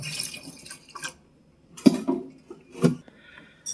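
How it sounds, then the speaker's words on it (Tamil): Water splashes into a pot of sambar in a few short pours, close by, separated by quiet pauses. "இப்போ கொஞ்சமாக தேவையான அளவுக்கு தண்ணி ஊற்றிக்கலாம்"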